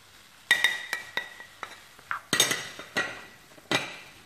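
A spoon stirs ground cumin and spices in a metal pot on a home stove, giving a series of sharp clinks and scrapes in an uneven rhythm, close and alone.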